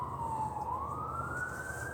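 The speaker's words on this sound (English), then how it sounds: "Oh boy, sirens a-blazing." An emergency vehicle siren wails steadily, dipping and then slowly rising in pitch, heard at a moderate distance over low traffic rumble with no talking.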